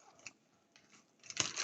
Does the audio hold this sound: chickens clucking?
no